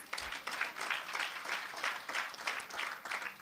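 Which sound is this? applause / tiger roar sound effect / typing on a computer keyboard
applause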